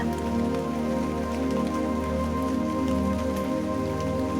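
Steady rain falling on a surface, a dense even patter with a constant low rumble, continuous and close throughout with no voices.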